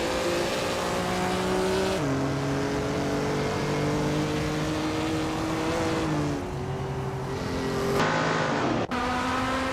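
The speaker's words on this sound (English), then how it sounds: "Veskies is driving a 1966 Shelby G350." A 1966 Shelby G350 race car engine roaring steadily in a racing video game, holding high revs with brief drops at each gear shift and a sharp cut near the end, no talking.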